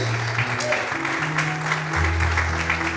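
A church congregation applauds loudly during a worship service, the broad clapping wash running throughout over sustained keyboard or organ tones.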